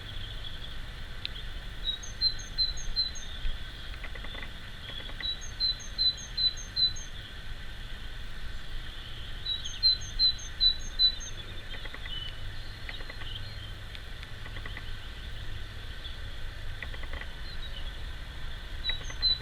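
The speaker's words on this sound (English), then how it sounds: "listening to the other birds" Small birds sing in a cottage garden on an autumn afternoon, short bright chirping phrases repeating in clusters every few seconds over a steady outdoor hum, distant and fairly faint.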